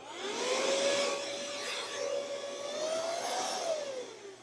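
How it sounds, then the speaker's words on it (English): A vacuum cleaner in a laptop repair shop runs steadily and close, a loud whirring drone with a high motor whine that rises slightly toward the end. "And you have a vacuum"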